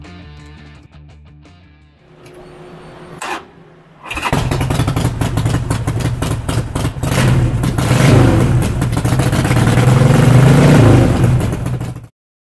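A 2011 Harley-Davidson XL1200X Sportster Forty-Eight motorcycle engine cranks, catches and starts, then idles loudly and revs in rising bursts close by before cutting off abruptly.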